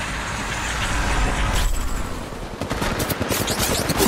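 Rapid bursts of automatic gunfire crackle continuously in an Apex Legends Mobile firefight, dense overlapping shots with a brief lull near the middle before the volley resumes loud and close.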